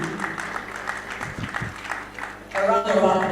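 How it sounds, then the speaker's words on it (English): Audience at a formal podium event clapping, a steady patter of applause under a man's amplified speech, swelling louder toward the end. "A round of applause, please."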